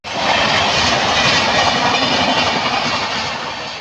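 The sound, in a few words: train passing a level crossing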